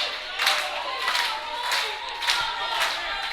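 A packed, raucous crowd at a wrestling main event in Gleason's Gym cheers and claps in rhythmic surges, loud and continuous, with chanting bursts roughly every half second.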